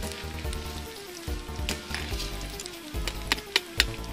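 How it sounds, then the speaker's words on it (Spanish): Spring rolls sizzle and crackle as they fry in oil in a pan, a close, continuous hiss punctuated by sharp pops and spits, with no talking over it. "Estoy friendo unos rollitos de primavera marca Maeso"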